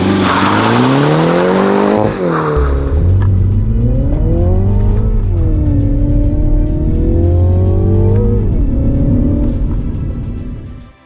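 A manual car revs hard, then launches as the clutch is dumped, with tire squeal and a loud engine climbing through the revs before easing off at the end, close and without talk.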